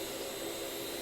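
A household vacuum cleaner runs steadily at close range, a continuous loud whine and roar with no pauses or voices.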